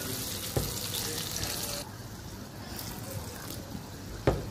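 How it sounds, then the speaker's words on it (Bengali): Water poured into a frying pan of fish being cooked down with turmeric, chili powder and green chilies, a steady broadband splash and hiss running about two seconds, then a quieter sizzling simmer with a couple of sharp utensil knocks. "এখন একটু পানি দিব"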